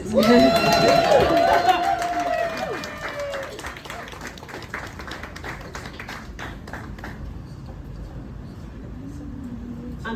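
Loud cheers and whoops with clapping from an audience at an immersive Grease musical launch event, fading after a few seconds into scattered applause and crowd murmur, with a voice speaking near the end.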